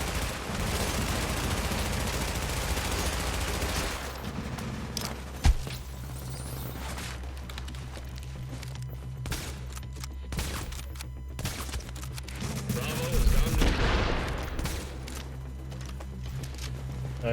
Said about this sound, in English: we're gonna go ahead and use the submachine gun on this guy